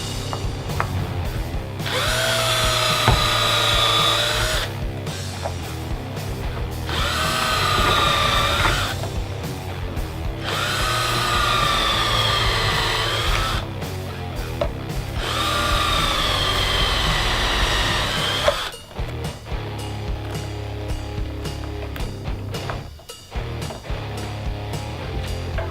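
A power drill re-drills screw holes in a guitar pickguard, with several long, loud whining runs separated by short pauses, followed by a rougher stretch of brief stop-start bursts.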